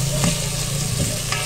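Garlic and chopped tomato sizzle in a pan over a gas stove for squid adobo, a steady close fry with a low hum underneath and light stirring scrapes.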